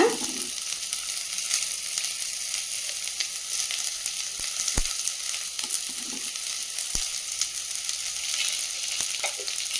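Onions fry in a pan for fish curry with a steady, close sizzle, broken now and then by sharp clicks of a utensil against the pan.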